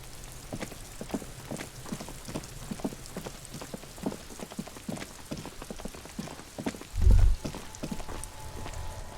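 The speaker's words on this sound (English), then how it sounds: "All around you, rain falls on the great city of Revachol." Steady rain pours over the great city of Revachol in the video game Disco Elysium, a dense patter of drops on surfaces with a brief low rumble near the end and no voices.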